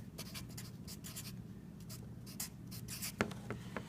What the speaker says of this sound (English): so let me write that down really quick